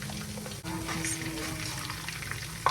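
Chopped chicken gizzards sizzle steadily in hot oil in a pan while cooking jollof rice with veggies, a continuous close frying hiss with a brief dip partway and a small clatter at the end.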